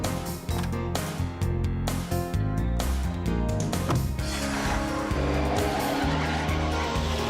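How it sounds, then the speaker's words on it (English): An animated cartoon truck revs and speeds away with loud, sustained tire squeals and skidding, engine noise dominating the whole stretch up close. "Stop that truck."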